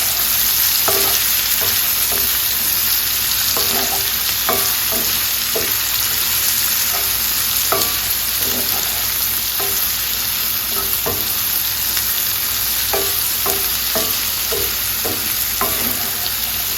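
Potatoes and onion frying on high heat in bacon grease in a skillet, a steady close sizzle with occasional scrapes and stirring clatter throughout, no talking.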